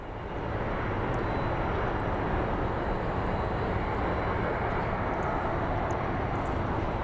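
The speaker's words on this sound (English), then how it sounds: "let's go take a look at the Super King that's landing" A Beechcraft Super King Air turboprop landing at Sky Harbor International Airport in Phoenix, heard as a steady, loud broadband engine roar that holds level throughout with no talk.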